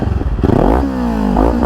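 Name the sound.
Kawasaki Ninja 400 revving with Akrapovic carbon fiber slip-on exhaust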